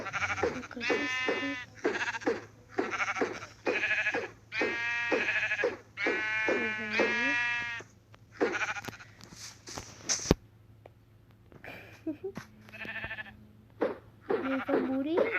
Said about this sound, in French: Le pauvre mouton, il meurt en canne à pêche!